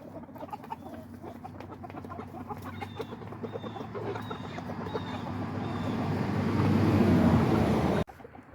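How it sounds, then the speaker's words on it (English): Backyard chickens, a rooster with broody hens, cluck and squawk in a busy, overlapping ruckus that builds louder toward the end before cutting off abruptly. "Rooster ruckus"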